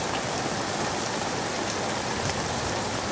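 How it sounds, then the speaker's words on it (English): Tropical rain falls steadily at a campsite, an even, unbroken hiss of drops landing on surfaces close by, with no voices. "we are camping in the tropics and listening to the tropical rain with thunder"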